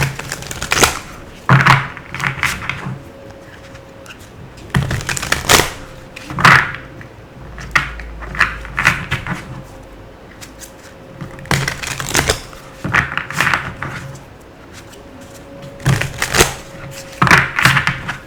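Repeated bursts of tarot cards being shuffled, riffling and tapping in clusters with short pauses between, close and fairly loud.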